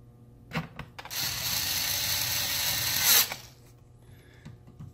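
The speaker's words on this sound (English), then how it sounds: "Put the screws back in." A small power screwdriver drives screws back into an HP laptop, a short high whirring burst of about two seconds between faint clicks and handling taps, close and moderately loud.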